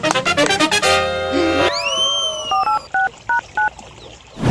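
A telephone number is dialed in a Gujarati comedy sketch: a burst of electronic tones and a rising sweep, then a quick string of short, evenly spaced keypad beeps, loud and close, with no talk.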